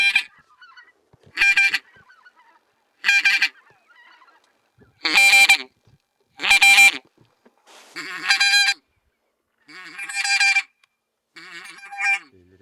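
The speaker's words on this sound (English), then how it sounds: "The geese are coming in, right?" Geese honk in loud, separate bursts as they fly in over a spring hunting spot in Yakutia, Siberia, about eight calls spaced roughly a second or two apart, clear against near silence.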